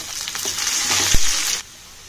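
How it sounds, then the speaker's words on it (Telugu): Pounded raw green chillies and ginger fry in hot oil as a tempering for pongal, a fairly loud, hissing sizzle with a few crackles that stops abruptly partway through, leaving near silence. "ఇదిగోండి పొంగల్ కోసం పోపు పెడుతున్నాను."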